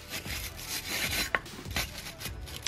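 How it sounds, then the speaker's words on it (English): A wire brush scrubs the rear brake caliper hanger of a BMW F3X in short, close, rasping back-and-forth strokes, with one brief sharper scrape in the middle. "Before you put the hanger back on, I clean up in here with a wire brush."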